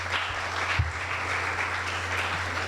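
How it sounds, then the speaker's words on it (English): Steady audience applause after a research day talk, a dense even wash of many hands clapping at moderate volume with a low hum underneath, no voices on top. "another round of applause to Dr. Hannah Mahase as well for her talk"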